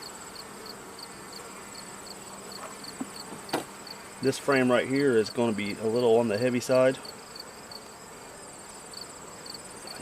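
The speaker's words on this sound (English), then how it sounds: "I don't know if you can hear them buzzing, they're getting irritated." Irritated honey bees hum as a frame is lifted from a swarm hive, a steady buzzing that rises and thickens briefly, while someone speaks close by over it.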